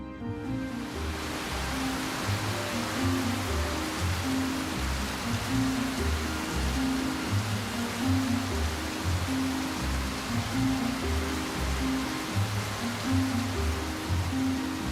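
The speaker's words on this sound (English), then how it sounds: "the weather changes suddenly and huge raindrops like these come pelting down" Huge raindrops pelting down in the mountains of Odaigahara make a dense, steady roar of rain, loud and continuous, with a low rumbling undertone throughout.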